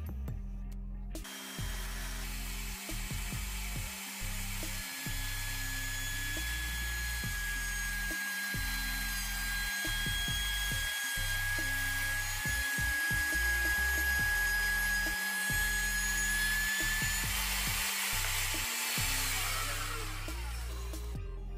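A Ryobi router mounted in a universal router table runs steadily, cutting a groove in a wood board against a locked fence: a loud, continuous whine with a high tone through the whole pass, then winding down at the end.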